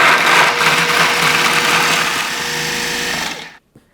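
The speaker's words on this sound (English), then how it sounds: "put them in a food processor and grind them up until they resemble pretty fine crumbs" A food processor grinding pecans into fine crumbs, running loud and close with a steady high whirring roar and rattling nuts for several seconds before stopping abruptly.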